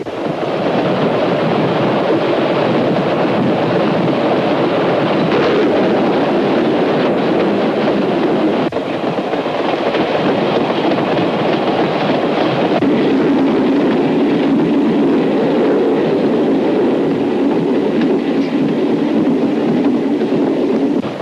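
Loud, continuous rumble of a train in motion heard from inside, a steady roar of wheels and carriage noise with no voices.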